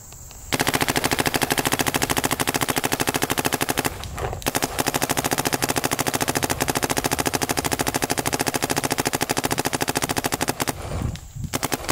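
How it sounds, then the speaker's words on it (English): A paintball marker with a cap ramp firing HK Army Level 4 Supreme paintballs downrange in a long, rapid, steady stream of pops, loud and close, broken by two brief pauses. "I'm going to shoot it downrange so you guys can see the flight."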